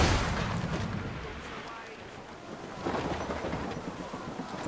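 Ship cannons fire in Assassin's Creed Rogue naval combat, two heavy booms roughly three seconds apart with rumbling, crackling tails amid battle noise and shouting crew voices.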